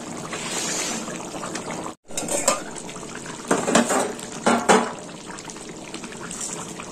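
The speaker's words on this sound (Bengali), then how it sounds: "একটু জল দেবো" Water poured into a pan of fish head and cauliflower curry gives a close, splashing trickle, broken by clinks of utensils against the pot and a short pause.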